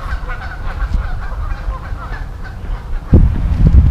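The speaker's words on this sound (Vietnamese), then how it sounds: "ông cho mấy con vịt ăn, mấy ngỗng ăn, nó tới bu quá trời" Geese and ducks honk repeatedly while crowding around an old man feeding them in a park, with a louder burst of low, rough calls near the end over steady background noise.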